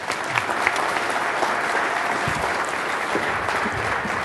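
Steady, dense applause from a conference audience welcoming a keynote speaker on software design, loud and continuous throughout with no pauses.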